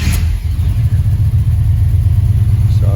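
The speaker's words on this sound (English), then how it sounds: "start the car, and see what happens" A 1995 Chevrolet Impala SS with its engine running in a garage, a steady close low rumble throughout with no distinct start-up crank, just an even idle drone.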